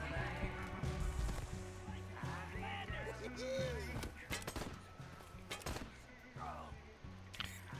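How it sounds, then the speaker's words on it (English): Gunfire in the post-apocalyptic game Wasteland 3 during a firefight, scattered sharp shots crackling over a busy mix of game music and effects, with a voice talking through parts of it. "Some friendly fire there on their part."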